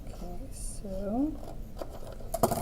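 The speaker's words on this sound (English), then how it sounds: "cut along the dashed lines so that we have some little flaps" Scissors cut paper along dashed lines while folding a sheet into flaps, producing faint, close, brief snipping sounds after a woman's speech, with a sharper cut near the end.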